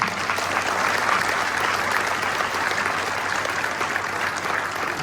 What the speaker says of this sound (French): Je vous remercie d'applaudir les élus qui viennent d'être élus.